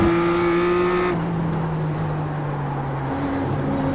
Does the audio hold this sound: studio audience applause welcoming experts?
no